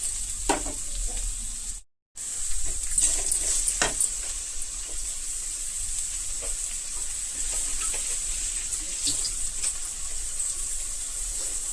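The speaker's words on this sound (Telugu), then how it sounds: "ఇప్పుడు ఫస్ట్ క్యారెట్ వేసేస్తున్నాను" Carrot pieces hiss and sizzle in tempered oil for a potato-carrot fry, a steady close frying sound broken by a short gap, with occasional spatters and utensil taps.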